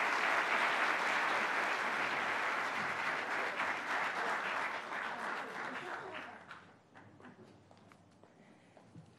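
An audience at a public event with the Governor applauds to welcome a speaker, dense steady clapping that gradually thins and fades out over several seconds.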